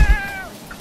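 A cat gives a single short meow, close and clear, with a falling pitch over less than a second, no talk alongside.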